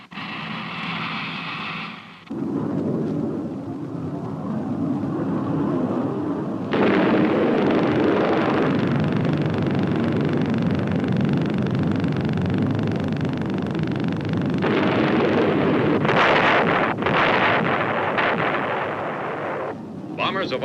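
A bomb blast from an aircraft bomb drop in a simulated nuclear war setting: a sudden loud burst followed by a long, heavy, sustained rumbling roar, with narration running over it.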